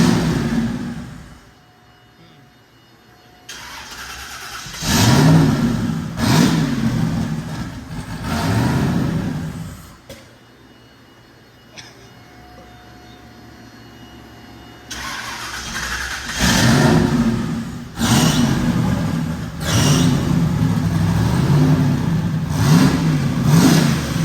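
Z2H8 Camaro drag car engine on a dyno, starting and revving hard in several loud bursts, dropping to a rough idle between pulls, then climbing again in long sustained roars, close and dominant with no speech.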